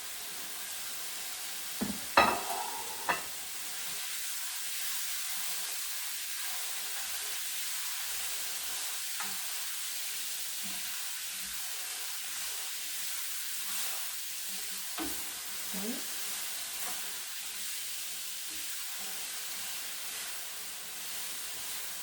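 Broccoli beef searing in a pan on one side, a steady soft sizzle and hiss throughout with a few clinks and stirring scrapes near the start, at a moderate distance and no talking.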